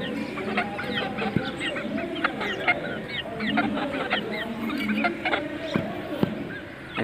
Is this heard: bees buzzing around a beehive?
no